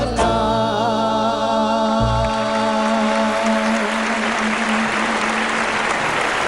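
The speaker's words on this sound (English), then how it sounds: "Let's give her another round of applause." An audience at a design awards show applauds after a performance, the clapping swelling under fading sung music with a held tone, then continuing as dense, steady applause on its own.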